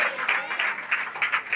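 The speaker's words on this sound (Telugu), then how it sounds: "చప్పట్లు కొడుతూ చెప్పాలి." An audience at a pastor's sermon clapping hands in a quick, roughly regular rhythm, a short burst of several claps.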